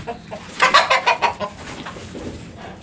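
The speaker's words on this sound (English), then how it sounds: "Those are my chickens." Backyard chickens cluck in a quick burst of several nearby calls, louder in the middle and then trailing off into quieter, softer clucks with no talk.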